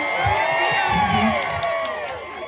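A loud crowd cheering and whooping at an outdoor fair event, a sustained wall of shouts with children's voices and a few claps, near and continuous.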